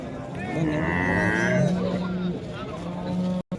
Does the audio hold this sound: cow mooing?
yes